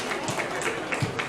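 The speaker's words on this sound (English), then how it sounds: "Big round of applause for me." Audience applause fills a Comic-Con Q&A hall with Peter Davison, Chris Barrie and Mike Quinn, a steady dense wash of clapping that continues without pause at moderate volume.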